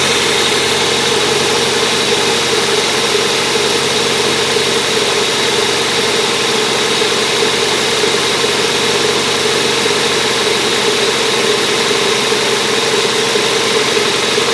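A cold Toyota Corolla engine idles at a high, steady speed with a loud, unbroken hum and close mechanical texture. No one speaks over it.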